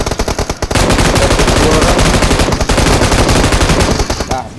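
Loud, rapid automatic gunfire from PUBG Mobile, a dense sustained burst of shots lasting most of the clip after a few scattered opening rounds.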